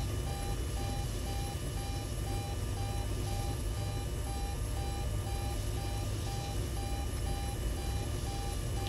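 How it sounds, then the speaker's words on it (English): Repeated electronic beeping from the military video game Arma 3, a steady evenly spaced pulse held at a constant pitch throughout, sitting over a dense, loud wash of in-game background noise with no talking. "I do not like that beeping sound."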